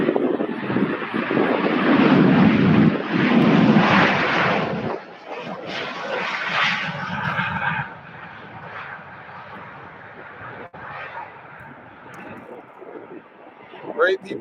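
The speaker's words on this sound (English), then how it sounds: "American 737-800." An American Airlines Boeing 737-800 jet airliner roars loudly at Louisville airport, its engine noise gradually fading as it passes, with wind buffeting the microphone and a voice speaking at times.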